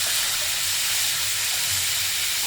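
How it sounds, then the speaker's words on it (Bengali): Tuna fish pieces fry in hot oil in a pan while being turned over, giving a steady, close hiss and sizzle that holds evenly throughout without any talk. "আস্তে করে আস্তে আস্তে মাছগুলোকে উল্টে নিচ্ছি"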